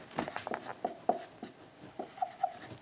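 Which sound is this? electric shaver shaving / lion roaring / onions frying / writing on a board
writing on a board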